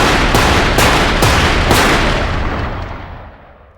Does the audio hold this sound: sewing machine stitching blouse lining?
no